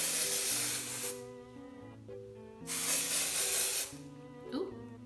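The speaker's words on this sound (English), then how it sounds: "I'm going to use some of this Flower Beauty Jet Set Invisible Powder Spray to kind of set my primer." Flower Beauty Jet Set Invisible Powder Spray hisses out of the can in two loud bursts, each about a second long, while someone talks underneath and between them.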